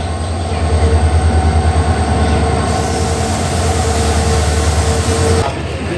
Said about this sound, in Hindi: और फाइनली इतना देर वेट करने के बाद ट्रेन आ चुकी है।